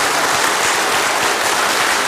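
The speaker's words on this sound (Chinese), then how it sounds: "让我们以热烈掌声" An audience applauds warmly after a guzheng orchestra performance, a dense, steady roar of clapping heard alone at full volume.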